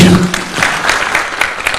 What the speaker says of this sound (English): And a round of applause for His Excellency